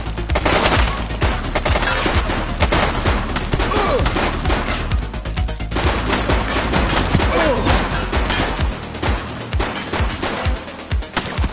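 Rapid gunfire rattles through a police shootout in The Precinct, dense bursts of shots in quick succession, loud and continuous across the whole stretch.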